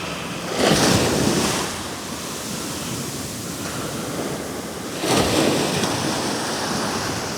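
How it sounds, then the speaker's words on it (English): Ocean waves break on a sandy beach in Anguilla, two big crashing surges a few seconds apart over a steady roar of surf and wind, with no one talking. "But you see what I mean about the waves now."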